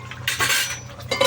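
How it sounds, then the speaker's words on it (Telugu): A pot lid comes down on a simmering pot of chicken curry with a short, close metallic clatter and clink, then the lid settles. "ఇంకొక 5 నిమిషాలు మూత పెట్టుకుందాం."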